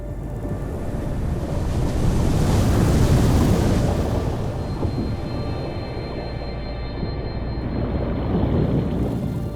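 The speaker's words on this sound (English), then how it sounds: "Irene strengthened into a Category 1 hurricane over Puerto Rico, with powerful waves striking the north coast." Powerful Category 1 hurricane waves strike the north coast of Puerto Rico, a loud, continuous roaring wash of surf that swells and ebbs with no voices.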